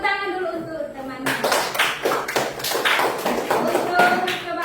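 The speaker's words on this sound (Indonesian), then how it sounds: "Tepuk tangan dulu untuk temannya" Children in an Indonesian classroom clap for a classmate, a burst of quick, uneven hand claps starting after a teacher's voice and continuing steadily, close and fairly loud, with talk mixed in.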